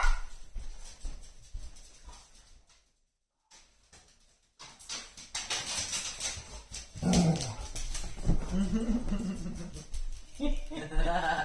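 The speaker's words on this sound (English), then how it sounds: "That's our male dog." A male dog indoors growls and barks protectively, with whimpering yips between a short silent gap, close and fairly loud.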